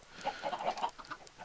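Chickens in the Minecraft video game cluck in a quick run of short, close calls, several overlapping blips across a brief stretch with no talk.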